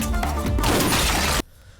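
Glass shattering in a movie scene from KGF Chapter 2: a loud, close burst of breaking glass with crashing fragments that cuts off abruptly into near silence.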